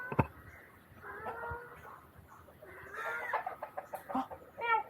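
Roosters crow at a guesthouse in Tangalle, Sri Lanka, their drawn-out calls fairly faint and somewhat distant over quiet outdoor background, with a few other animal sounds mixed in.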